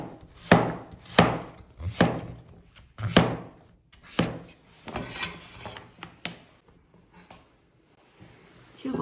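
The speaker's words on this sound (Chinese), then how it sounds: "我们取一块南瓜，先给它去皮，然后再给它切成薄片。" A knife cuts a peeled, homegrown old pumpkin into thin slices on a board, giving about a dozen fairly loud, irregular chops close by with short pauses between them, and no talk is heard.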